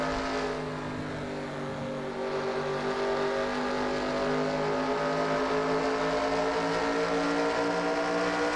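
Simulated NASCAR stock car engines from the NASCAR Racing 2003 game drone steadily and loudly throughout, several cars packed close together with layered harmonic whine and no speech.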